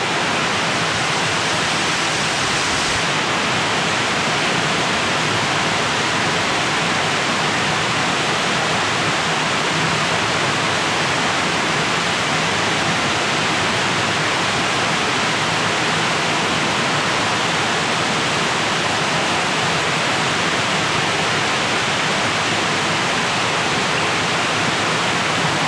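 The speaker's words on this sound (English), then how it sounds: "I'd like to get over there to that waterfall and stand underneath it." A waterfall at a hiking spot gives off a continuous, powerful rushing roar, near and loud, steady throughout with no voices.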